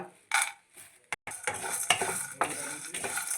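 Peanuts and fenugreek seeds are stirred in a hot pan for an Iyengar-style pulihora spice mix, giving a close, crisp clatter of scraping and tossing with a light sizzle underneath, with no voices.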